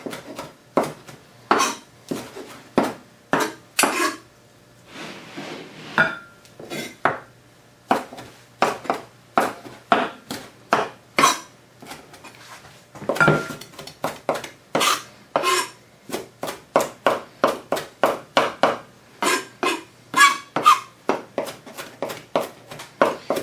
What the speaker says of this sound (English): Just going to give it a little chop.